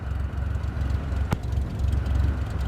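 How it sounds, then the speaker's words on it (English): A light airplane in Flight Simulator 2024 taxis onto the runway, its propeller engine droning steadily at low power and close by, with a single sharp click partway through. "Now slowly taxi onto the runway and align the plane with the center line."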